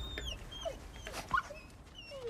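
Wolves whimpering in God of War Ragnarok in the icy realm, several soft, close, high whines and yips in an irregular sequence, with no talk.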